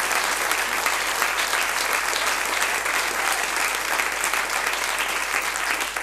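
A church congregation at an evening service in Santiago, Chile breaks into sustained applause, a thick, even roar of many hands clapping continuously with no pauses, moderately loud and filling the room.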